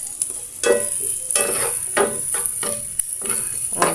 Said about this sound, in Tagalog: Gisa lang natin itong sibuyas ng konti mga sis.